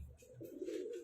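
Pigeons cooing nearby, a soft, low, rolling coo that swells and holds over about a second, with no voices.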